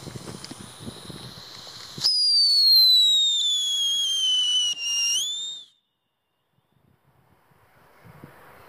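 A Funke whistling firework rocket lets out a loud, piercing whistle that slowly falls in pitch for a few seconds, cuts off, then silence follows.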